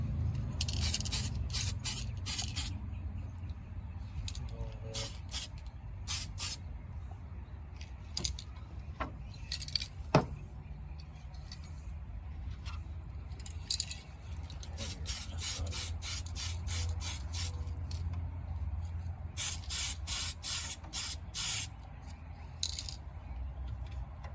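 Aerosol copper paint sprayed onto an RC car body in repeated short bursts, crisp hissing passes broken by brief pauses, with occasional small rattles and handling noises close by.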